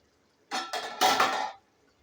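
A metal lid goes onto a cooking pot holding a dry fish curry with tomato and ridge gourd, making a short cluster of close clanks and a ringing scrape lasting about a second, then quiet.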